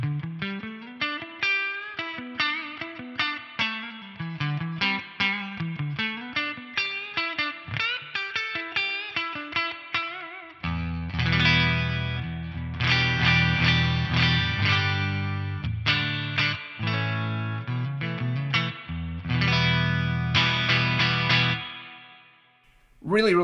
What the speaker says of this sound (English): The reverb actually sounds really sweet,